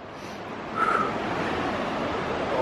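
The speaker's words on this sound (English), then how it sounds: "Look at the Nolichucky River." Broadband rushing water of the Nolichucky River runs steadily throughout, a continuous wash of flow noise heard from nearby, with a brief brighter swell partway through.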